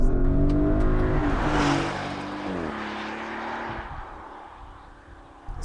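Porsche Cayenne Turbo E-Hybrid with twin-turbo V8 launching hard from standstill under launch control, a loud roaring rev climbing through gear changes, then easing off as the car pulls away.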